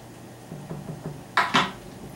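A spoon scooping out the middle of a tomato, a few soft scraping strokes followed by two sharper clinks of metal against a dish, close and quiet.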